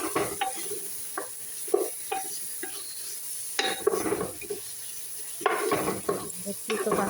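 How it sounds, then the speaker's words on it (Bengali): Whole spices such as cinnamon, cumin and coriander being stirred in a hot pan, a low sizzle running underneath while a spoon scrapes and clinks against the metal in repeated short strokes. "গরম মশলা আছে, দারুচিনি আছে, আস্ত জিরে, আস্ত ধুইনে ভালো করে একটু নাড়াচাড়া করে না নিলে"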